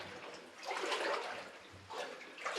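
Feet wade through cold water inside an abandoned mine in the Sierra Nevada foothills of Northern California, making soft sloshing and splashing surges, close and moderately quiet, with no talk.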